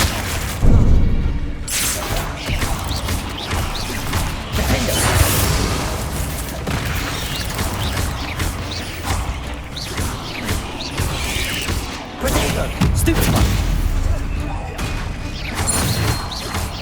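Confringo spell blasts in Hogwarts Legacy hit and smash objects, giving repeated booming crashes and thuds with debris clatter and whooshes. The impacts come in bursts across a busy, continuous game soundscape.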